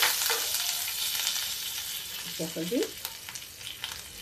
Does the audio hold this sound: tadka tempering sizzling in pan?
yes